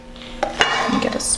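A whisk works gelatin into hot cream in a bowl for a mousse dome, making a few sharp metallic clinks and then continuous scraping and swishing, close and moderately loud with no talk.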